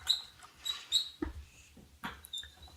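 High, thin squeaks from a pet hamster come in a few short bursts over a low background, fairly quiet and close.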